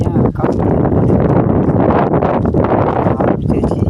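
Outdoor wind blowing hard against the microphone, a steady broadband roar and buffeting that runs the whole time with no clear pauses.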